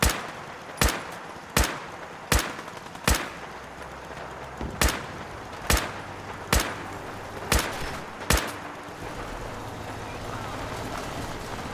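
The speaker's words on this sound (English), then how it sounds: "I've just been shooting Jezebel over and over again" Gunfire in Fallout 4 as a figure is shot repeatedly: about ten sharp, evenly spaced shots ring out over roughly eight seconds, loud and close, with a low game ambience and no speech.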